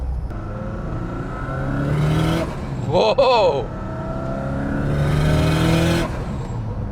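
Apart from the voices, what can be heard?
engine-swapped Subaru 2.5RS with equal length headers revving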